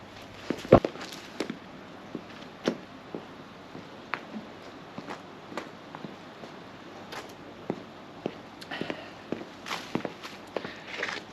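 Footsteps walk beside a koi pond that has winter covers on it, a string of light, irregular crunching steps with a few sharper knocks, close by and without speech.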